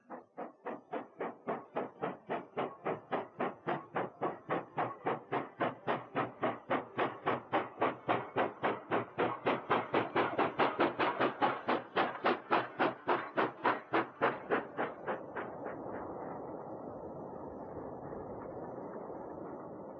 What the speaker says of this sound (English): Here is a train bound for the steel mill with 1 banking loco at the rear.